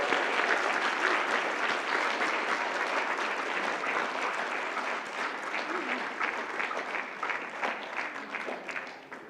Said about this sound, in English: can we give them a rousing round of applause and welcome?